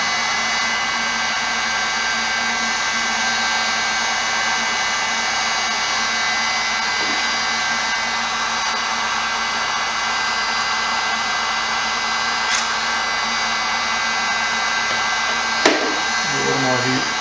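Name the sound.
hot air blower heating piano key tops to remove them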